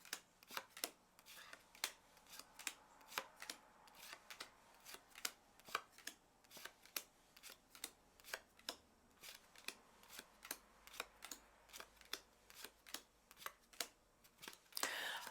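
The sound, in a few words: oracle cards being placed on top of each other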